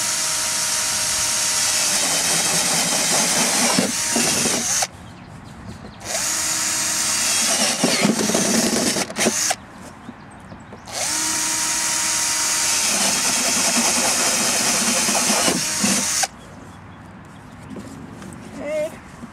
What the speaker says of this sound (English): this is a 1-inch drill bit, so I'm going to make a few bigger ones as well